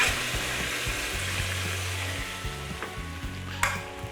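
Beef sizzles loudly in a hot pan as stout is poured in to deglaze it, with steady frying hiss and scraping stirring throughout, and one sharper clink near the end.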